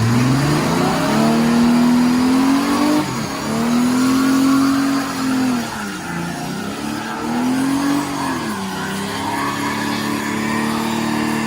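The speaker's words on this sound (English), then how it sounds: "let's do a burnout and maybe blow the motor up." A 1965 Ford Mustang's engine revs hard in repeated rising surges, held near full throttle for a burnout with a gritty tire-spinning roar beneath, loud and close, with no voices.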